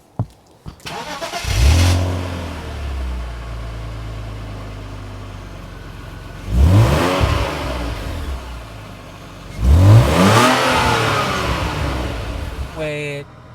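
1999 BMW Z3 2.0i engine starting and revving on a test drive, with three sharp rising revs spaced apart over a steady idle, loud and close.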